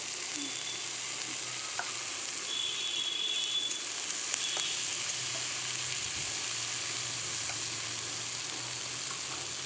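Chicken curry with garam masala and spices sizzles steadily in a hot oiled pan while being stirred, a continuous close frying hiss with occasional scraping clicks.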